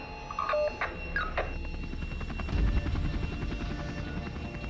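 Rescue helicopter flying in over rough terrain in Kakadu National Park, a steady rotor drone and thump with brief higher tones early on, fairly loud and continuous.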